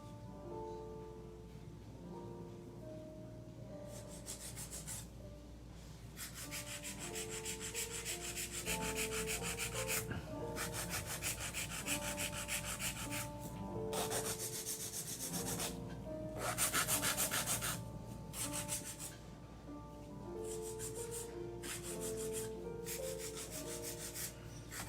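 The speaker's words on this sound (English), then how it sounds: "I'm using a 100 grit filer," Acrylic nails being filed with a 100 grit nail file, a steady close-up scratchy rubbing in long continuous strokes with brief pauses, alone with no talking.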